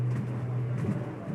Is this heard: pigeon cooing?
yes